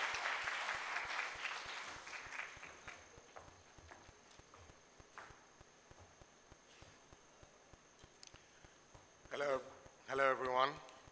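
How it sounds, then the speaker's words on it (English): Audience applause for a speaker at a Bangladesh solar power event, fading over the first few seconds into scattered claps, followed by someone speaking near the end. "Let's give a big round of applause for Mr."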